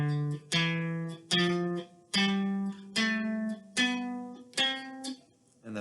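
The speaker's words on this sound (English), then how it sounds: "So the major scale sounds like this." One voice sings a major scale in solfege syllables, stepping up note by note in about eight evenly spaced sustained tones, clear and close, with no accompaniment.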